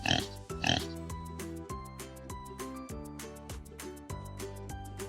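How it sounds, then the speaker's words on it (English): A pig oinks in a farm animal lesson for toddlers: two loud grunting snorts open the clip, followed by a light musical backing under a steady beat. "A pig. What sound does the pig make?"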